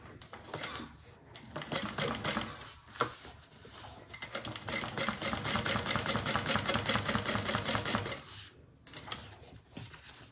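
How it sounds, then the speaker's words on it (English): Sewing machine stitching across the bottom of a fabric bag, a rapid close clatter in bursts that builds to a sustained run in the middle, then eases off near the end. "And I'm just going to sew across the bottom."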